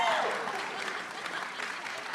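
Audience applause at a Broadway musical event, a steady wash of clapping from a crowd holding at an even level for the whole span, with a voice briefly audible at the start.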